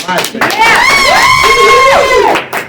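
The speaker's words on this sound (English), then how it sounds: "One more round of applause for her." A studio audience on a talk show cheers loudly with rising and falling whoops and shouts over faint clapping, the burst building quickly and tapering off near the end.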